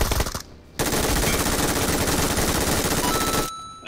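Sustained automatic gunfire in the video game PUBG Mobile, a dense rapid burst lasting several seconds after a brief lead-in shot, loud and close.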